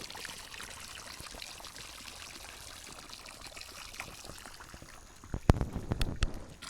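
Water spills steadily from a broken cap on a drip irrigation line, making a soft, continuous gushing hiss that becomes louder and splashier with a few sharp spatters near the end.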